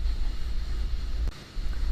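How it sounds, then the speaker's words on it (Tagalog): A ship's engine drones steadily below deck on a sea voyage toward Europe, a loud, continuous low rumble with wind-like noise over it and a brief dip in level near the end. "ito yung makina natin mga kabiyahe ayan sa baba"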